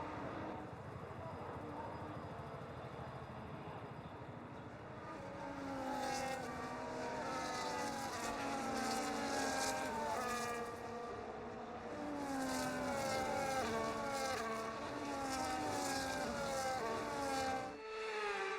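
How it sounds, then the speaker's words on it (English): Formula 1 cars on the formation lap of the Miami Grand Prix sprint in the F1 25 racing game: a steady, loud drone of several engines, rising and falling as cars pass in waves, without any talk. "The formation lap is underway ahead of today's sprint."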